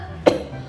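A single short cough bursts out once in an office setting, brief and fairly close, with quiet background before and after.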